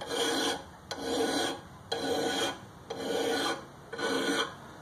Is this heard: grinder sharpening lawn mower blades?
yes